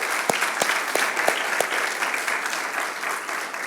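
A church congregation applauds together, steady dense clapping with a few sharper individual claps standing out, loud and unbroken throughout.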